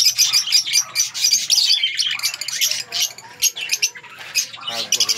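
African lovebirds in an aviary chirp and squawk constantly in a dense, shrill flock chatter, with a faint low coo in the background and no clear talk.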